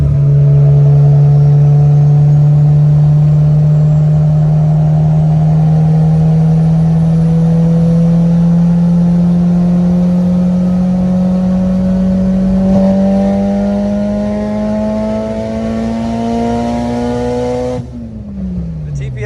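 A car engine during AWD tuning pulls hard under heavy throttle, a loud, close, continuous drone rising steadily in pitch for many seconds before cutting off abruptly near the end.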